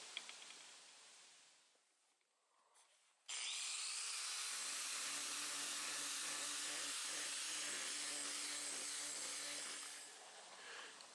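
Lapidary grinding wheel working a large chunk of Minnesota jasper, a loud steady abrasive whir that starts abruptly after a quiet lead-in and holds for several seconds before easing off.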